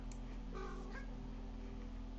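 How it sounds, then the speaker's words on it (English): Orange cat meowing insistently to be fed indoors, a couple of short plaintive calls over a steady hum, faint and somewhat distant. "I don't know if you guys are hearing the orange boy, but he's being insistent that it is time for him to eat"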